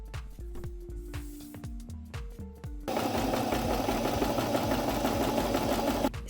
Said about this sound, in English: I sew the second line